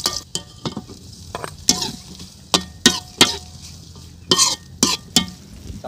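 Soup ingredients sautéing in a pan, with repeated clanking stirs of a metal utensil against the pan at irregular intervals over a soft steady sizzle, no talking.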